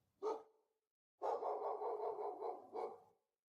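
A dog barks and whines nearby, one short yelp followed by a long drawn-out howling bark and a final shorter one, heard alone.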